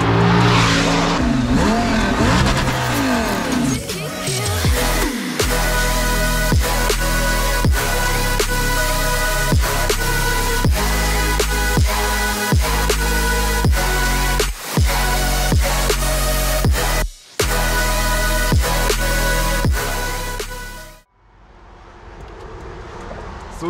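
Black Audi R8 with a 5.2-litre V10 screams loudly and close as it accelerates through a series of sharp gear changes, holding high revs before the roar drops away and fades at the end.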